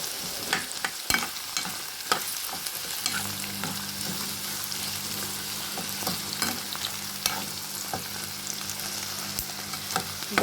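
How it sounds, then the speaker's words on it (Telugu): Ivy gourd and tamarind fry in a pan, a quiet steady sizzle broken by repeated scraping stirs and clicks from a spatula, with no talking. "మనం దొండకాయ వేగేటప్పుడే కొంచెం చింతపండు వేసి వేయించుకోవాలి"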